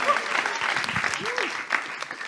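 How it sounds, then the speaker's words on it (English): Audience applause at an elevator pitch contest, a steady dense patter of clapping hands lasting throughout, moderately loud and close. "Applause, come on again."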